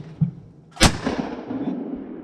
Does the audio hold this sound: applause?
no